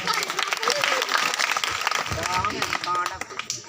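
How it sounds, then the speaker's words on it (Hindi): Audience applause at a performance about Shravan Kumar, a dense patter of clapping that runs continuously for nearly four seconds, loud and close, with voices speaking over it. "तालियां तालियां बजाओ।"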